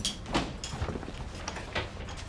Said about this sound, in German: Andi, hast du die Tür aufgebracht